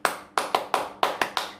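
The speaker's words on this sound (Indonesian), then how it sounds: "Tepuk semangat." Children in a classroom doing the 'tepuk semangat' cheer clap, six sharp unison claps in a quick uneven rhythm, close and crisp with short gaps of silence between them.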